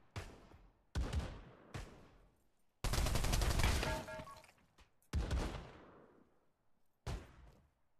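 Gunfire in the VR shooter Pavlov, a series of loud close shots each trailing off in a decaying echo, plus one sustained burst of rapid automatic fire near the middle.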